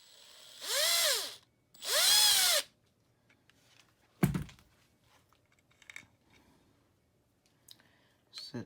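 Cordless power drill with an 8mm bit, used while removing the engine from a Yamaha YZ250F, gives two short close revving whirs that rise and fall, followed by clanks of tools and faint handling noises.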